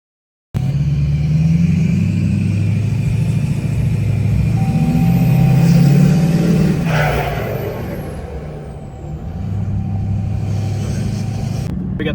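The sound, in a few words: diesel pickup truck cab with 5-inch exhaust, turbo whistle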